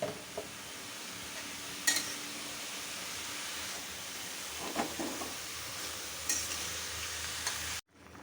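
Eggplant slices frying in a hot pan in a home kitchen, a steady close sizzle throughout with a few sharp clinks and scrapes of a utensil, ending abruptly.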